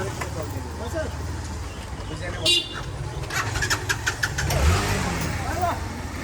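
Motorbike engine starting after a petrol refill, a brief whirr and catch followed by a low idling rumble, heard under casual talk among several people outdoors with a short toot-like tone in the middle.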